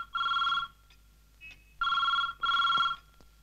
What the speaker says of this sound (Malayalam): നീ ഫോൺ എടുക്ക്.